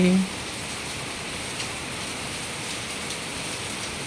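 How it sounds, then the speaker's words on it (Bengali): Light, steady rainfall pattering on surfaces outdoors in a rural setting, a soft even hiss with no distinct drops or thunder, heard alone after a brief voice at the very start. "দেখো বৃষ্টি প্রায় কমে এসেছে।"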